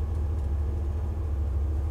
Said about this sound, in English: Now we'll get her up to about 50, 60 miles an hour, see what this big block can do.